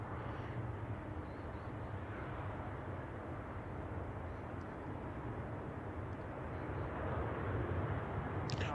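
An All Nippon Airways airliner on approach to San Francisco Airport, heard as a faint, distant, steady rumble that grows slightly stronger near the end.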